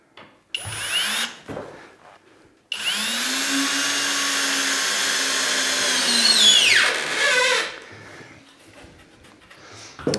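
A screw is driven into a drywall bathroom niche with a power driver: one steady whir of about four seconds that rises slightly and winds down, loud and close, with quieter handling noises before and after.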